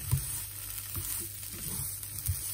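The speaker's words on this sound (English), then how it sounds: "I'm just gonna now cook the peppers and the onion in a frying pan over like a medium heat till they're softened." Peppers and onion fry in a pan over medium heat, giving a steady close sizzle with a few soft clinks or stirring taps scattered through it.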